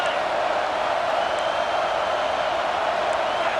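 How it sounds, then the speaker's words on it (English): Steady stadium crowd roar from the EA Sports College Football 26 video game, a continuous loud wash of massed voices holding at an even level throughout with no individual words standing out. "This crowd bringing the energy and noise early."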